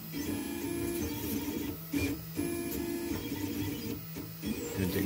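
A 3D printer runs a print, its stepper motors whirring and whining in a steady stream of tones broken by short pauses and changes in pitch, heard close up with no talking.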